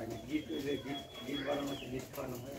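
Pigeons, including Rajshahi Giribaz and other local breeds, coo softly in low, rolling phrases, quiet and close, with people talking over them.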